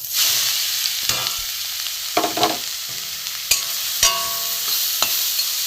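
Grated carrots frying in ghee in a wok over a gas flame, a continuous sizzle with intermittent scrapes and knocks of a spoon stirring the shreds.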